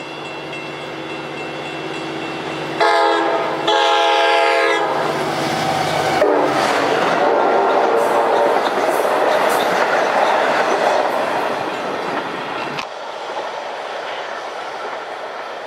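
A Long Island Rail Road express train roars past at speed on the Montauk Branch, its K5LA multi-tone horn blaring in several blasts, wheels rushing and clattering loudly before the noise cuts down.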